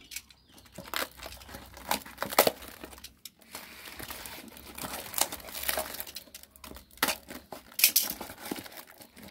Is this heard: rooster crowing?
no